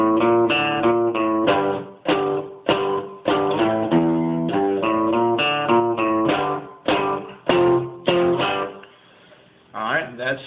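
The verse riff of a song played slowly on guitar: a close, rhythmic run of picked notes and chords with short gaps, ending in a brief pause before a few last notes.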